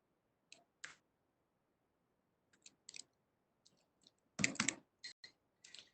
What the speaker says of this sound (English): I'm typing something here just for one purpose.